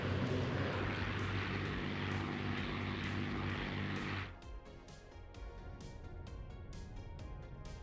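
A WWII propeller fighter plane in the Battle of Britain air combat game Scramble drones loudly with a thick engine roar. The roar then cuts abruptly to a thinner, distant hum.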